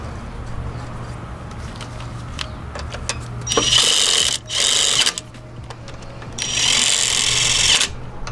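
A power tool fastens a wheel onto a Mitsubishi Evo with a Wilwood big brake upgrade, two loud bursts of whirring impact-style rattling, the first briefly stopping and restarting, over a quiet background hum.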